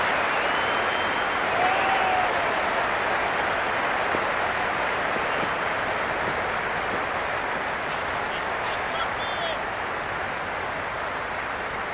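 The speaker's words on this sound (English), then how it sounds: "The crowd are making a heck of a lot of noise even before the first ball's been bowled" A big cricket crowd at a T20 international roars in a continuous wash of cheering and clapping before the first ball, steady and loud throughout with a few whistles above the din.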